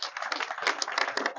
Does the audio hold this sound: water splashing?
no